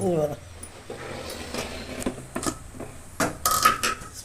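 Brinjal curry with tamarind water just added, mixed in a pot with a few scattered clinks and scrapes of a spoon against the metal, under a person's talk.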